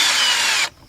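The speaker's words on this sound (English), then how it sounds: "I'm gonna grab my cordless drill with my 10mm deep socket up there" A cordless drill fitted with a 10mm deep socket spins briefly at close range while taking out small screws on a 2007-2017 Lexus LS460, a single loud whirring burst that stops abruptly.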